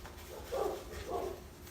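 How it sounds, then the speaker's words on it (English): Dogs bark indoors through two short, muffled barks about half a second apart. Both sound faint and distant over quiet room noise. "Excuse my dogs barking."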